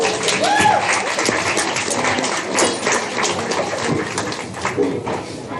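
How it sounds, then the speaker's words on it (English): Applause rises from the crowd at a 4-H/FFA youth swine show, a steady, moderately loud patter of clapping that carries throughout, with a voice heard briefly near the start. "Let's give one more round of applause."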